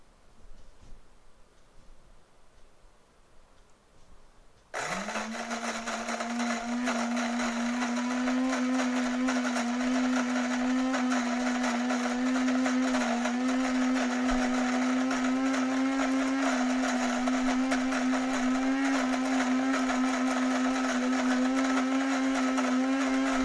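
A grind-and-brew coffee maker switches on and its grinder whirs through coffee beans, a loud, steady, high-pitched motor drone that begins abruptly after a quiet start and holds unbroken at close range, with no talk.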